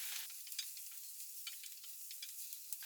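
Mushrooms frying in a pan of oil while being stirred around, a faint steady sizzle with soft crackles and scraping from the stirring.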